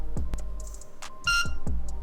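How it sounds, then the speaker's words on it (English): A speedcube timer gives several short, clear electronic beeps on start, stop and reset, mixed with button clicks, close and alone with no talk. "now it's making the beeping noise when it starts and stops and resets"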